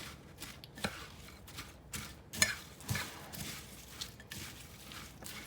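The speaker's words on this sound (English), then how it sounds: "So now we're just going to start mixing." Georgia cracker salad with crackers, cucumber and jalapeno pepper being tossed in a bowl outdoors, soft irregular scraping and crunching strokes with a few sharper clacks, faint and close, no voices.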